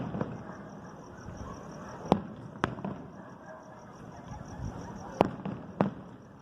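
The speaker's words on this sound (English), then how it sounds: "It looks like the fireworks downtown are over now, but everybody around us is still doing fireworks." Distant fireworks bursting downtown during a Grito celebration, heard as scattered sharp pops and cracks over a low, steady outdoor background, some bangs louder and closer than others.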